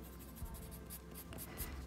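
A white colored pencil drawing across paper, a soft continuous scratchy rub with faint rhythmic strokes, close and quiet, without voices.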